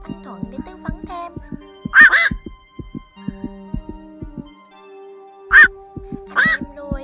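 A flock of black-crowned night herons gives harsh, quacking croaks in three loud bursts, a pair near two seconds and more after five, over a steady low rhythmic thumping background.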